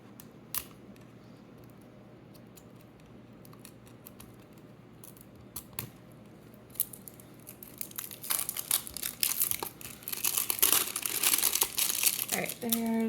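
Thin plastic wrapping layer crinkling and crackling by hand, scattered soft rustles at first, then a dense, louder burst of crumpling toward the end, close up.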